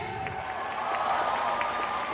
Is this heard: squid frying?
no